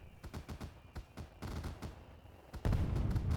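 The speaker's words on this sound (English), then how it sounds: "Fireworks everywhere!" Fireworks burst in the Nintendo Switch 2 Welcome Tour video game, a rapid run of sharp pops and crackles that thicken into a louder, denser barrage near the end, with no talking over them.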